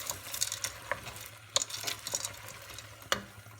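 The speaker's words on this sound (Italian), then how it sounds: "e poi la mescolo." A spoon stirs pasta with potatoes and provola in a pot, giving quiet soft scrapes and wet sloshing with a few sharper clinks against the pot, close up and faint, with no voices.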